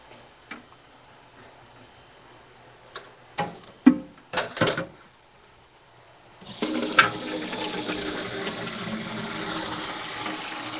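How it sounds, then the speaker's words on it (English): Tap water runs into a container being filled with four quarts of water, beginning partway through as a steady, close rush of flowing water after a few scattered knocks and clatters. "So let's start with the water. I need 4 quarts, so this will work here."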